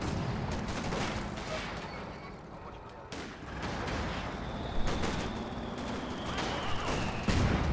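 Walls crumble under fire in Company of Heroes 2, a real-time strategy game: a dense barrage of booms, crashes and gunfire overlaps with debris, with sharper blasts near the end.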